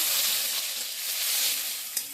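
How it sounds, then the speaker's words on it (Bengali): Chopped tomato fries in hot oil in a kadai, giving a dense, even sizzle that holds close and loud throughout, with one brief scrape near the end. "কড়াইতে প্রথমে তেল দিয়ে দেবো টমেটো কুচি,"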